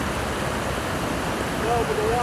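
A fast-flowing creek at a rocky trail crossing, giving a loud, steady, close rush of water throughout, with a faint voice toward the end.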